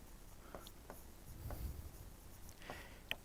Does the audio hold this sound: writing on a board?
yes